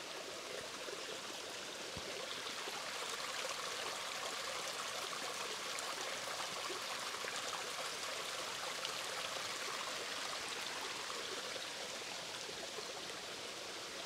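Small river flowing steadily, a constant broadband rush of water over a landscape, continuous and even throughout with no voices.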